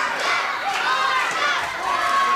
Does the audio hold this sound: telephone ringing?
no